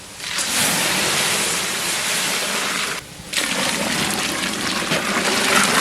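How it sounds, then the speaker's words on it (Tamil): Hot water gushes in a loud, steady rushing stream into flour for dal vada batter, breaking off for a moment before pouring on again, close by and without talk. "மாவுக்கு வந்து வெந்நீர் போட்டு வச்சிருக்கோம் அதை சேர்த்துக்கலாம்"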